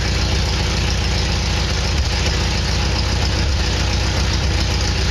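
A 1960 Triumph TR3A engine, freshly restored, idles steadily and loudly up close with an even, continuous rumble that holds without pause.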